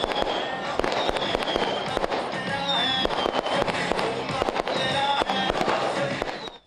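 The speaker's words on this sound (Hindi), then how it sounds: "आतिशबाजी का मुजाहरा भी किया" Fireworks at a political election rally in Lahore, a dense continuous crackle of many rapid firecracker pops and bangs with faint whistling streaks, loud and sustained throughout amid crowd noise.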